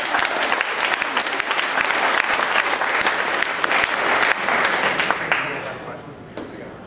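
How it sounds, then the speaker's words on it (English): A debate audience applauding, dense sustained clapping from a full room that holds steady and then thins out toward the end. "Give him a round of applause."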